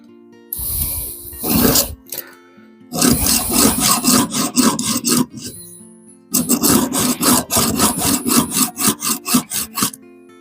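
A hand file rasps rhythmically across the teeth of a Stihl 180 chainsaw chain braced on a wooden support, in three bursts of close, steady back-and-forth strokes with short pauses between them.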